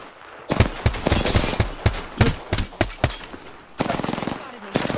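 Rapid automatic gunfire and single shots crack through an Apex Legends battle in bursts over about five seconds, loud and close, with a sustained volley near the end.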